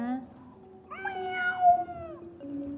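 A cat meows once, a drawn-out, rising and falling cry heard close and clear against quiet background noise.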